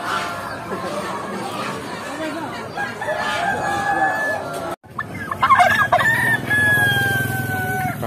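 Chickens, including culled laying hens, cluck and chatter close by while a rooster crows loudly, with more crowing after a brief pause amid busy noise at the Muntilan animal market in Magelang.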